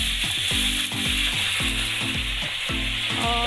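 About three pounds of ghee heating in a large deg pot for Pakistani degi chicken biryani, giving a loud, continuous sizzle with a rhythmic scraping, clattering pulse running through it.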